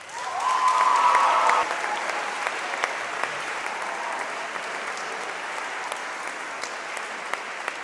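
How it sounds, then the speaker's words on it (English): A school audience at a house singing competition applauds, starting as a loud, dense burst of clapping that eases after a second or two into steady, sustained applause filling the hall. "give yourselves another round of applause."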